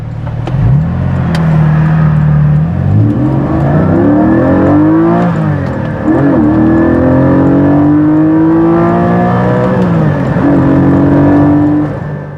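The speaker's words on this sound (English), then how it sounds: "I'll do a pull for you and you can experience that amazing sound." A Porsche 718 Spyder engine revs hard, climbing in pitch through several gears with brief dips at each shift, loud and close throughout.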